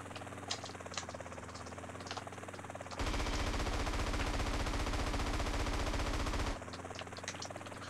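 Rapid vehicle-mounted gunfire in GTA San Andreas, a dense sustained burst of loud automatic shots lasting a few seconds, set between quieter stretches of game ambience with engine hum.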